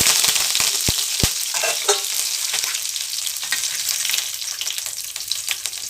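Curry leaves and spices hit hot oil in a pan for Tamil-style egg curry, making a loud, close crackling sizzle with a few sharp pops early on, then a steady frying hiss throughout.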